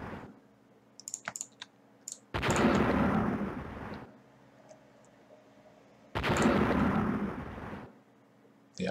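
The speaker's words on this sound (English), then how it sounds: "I hope we don't hit our destroyer with that torpedo" Two heavy, rumbling explosion-like blasts, each lasting a couple of seconds, as a torpedo strikes and sinks a transport ship in the naval strategy game Rule the Waves, with sharp clicks and taps between them.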